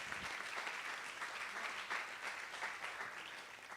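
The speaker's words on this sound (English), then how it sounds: "Let's make a round of applause for everyone who helped out." An audience at a panel event on plant and food medicine applauds the volunteers who helped out, a sustained, fairly soft wash of many hands clapping that holds steady and tapers slightly at the end.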